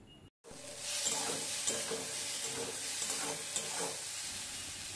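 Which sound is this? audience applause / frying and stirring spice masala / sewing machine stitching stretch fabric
frying and stirring spice masala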